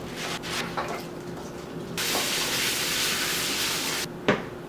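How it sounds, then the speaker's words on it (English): Water spraying from a tap onto kale being washed in a home kitchen, a steady broadband hiss that starts partway through and runs for a couple of seconds, then cuts off with a brief clunk near the end. "the first thing I'm going to do is to go ahead and wash the kale"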